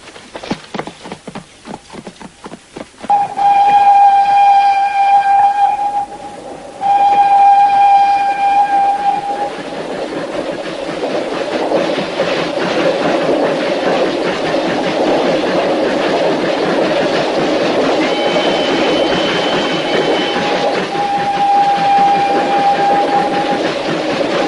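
A train in a Western film sounds a whistle in two long blasts, then rolls past with loud, rhythmic clickety-clack of wheels on rails that carries on steadily to the end.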